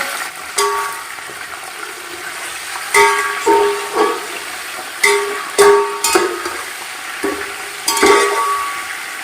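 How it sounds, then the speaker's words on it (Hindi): Chicken frying with onions in a pot under a steady hiss, broken by repeated scraping and stirring clatters of a utensil against metal. "अभी इसी प्याज के अंदर मैं डाल रही हूँ चिकन"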